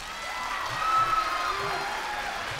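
Studio audience of a Ramazan game show clapping and cheering, a broad crowd wash with a brief whistle-like whoop rising midway, steady and moderately loud throughout.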